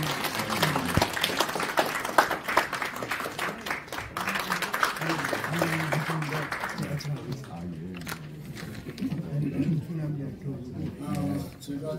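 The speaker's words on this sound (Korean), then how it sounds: "큰 박수로 맞아주십시오." Audience applause at a formal Korean gathering rises as a retired army general is welcomed to the stage for a congratulatory speech, then thins out after several seconds while amplified speech carries on over it.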